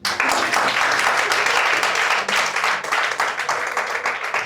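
A congregation applauding during a Sunday church service, sustained loud clapping from many hands filling the room without pause.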